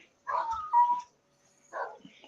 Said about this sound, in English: I'm sorry if you can hear my neighbor's dog howling.